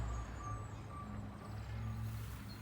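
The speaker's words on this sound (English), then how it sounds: "This is the sound of the garbage truck." A garbage truck rumbles at a distance outdoors in a garden setting, its reversing beeper sounding in a regular repeated pattern over the low engine drone, faint and steady.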